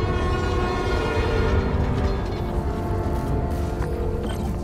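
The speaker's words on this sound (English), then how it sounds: "Trusty New York subway." A New York subway train passes in the Spider-Man Miles Morales game, making a loud, dense rolling rumble with metallic tonal squeal over steady wheel noise.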